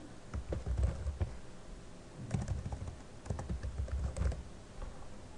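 Keys on a computer keyboard clatter in short bursts of quick, close taps, pausing briefly between words, with no voice over the typing.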